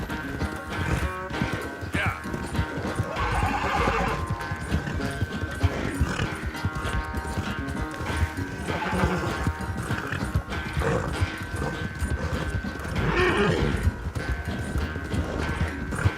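A horse in Red Dead Redemption 2 gallops with dense, continuous hoofbeats, with an occasional neigh and in-game voices mixed in over a busy, loud soundscape.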